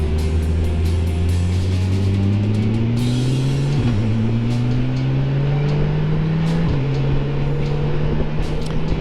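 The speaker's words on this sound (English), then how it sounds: "Goodman is the main street in South Haven, and it's got a lot of traffic" Car traffic on the busy main street of South Haven: a steady engine drone rises and drops with gear changes, close and continuous, with a faint background hiss of the road.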